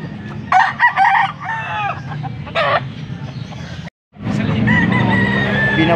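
Gamboa bloodline gamefowl roosters crow and hens cluck at a poultry sale in Pampanga, with several overlapping calls close by and a steady low rumble of background activity.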